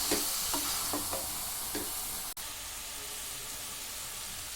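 Chicken for an almond pepper chicken gravy frying in a pan, giving a steady close sizzle broken by scraping stirs and one brief dip near the middle, with no voices.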